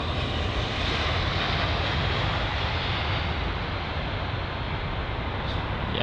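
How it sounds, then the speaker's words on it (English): A KLM Boeing 737 airliner arrives at London Heathrow after a flight from Amsterdam, its engines making a steady, loud broadband roar that holds evenly and alone for the whole stretch. "it's the KLM 737 that's arriving from Amsterdam as usual"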